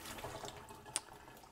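Soaked almonds are rinsed in a strainer under a running kitchen sink tap, giving a brief, faint, steady water hiss with one small splash or clink.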